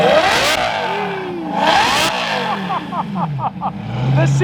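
A V10 supercar exhaust revs hard and loud in repeated sweeping bursts, with rapid crackling blips near the end, while voices talk over it.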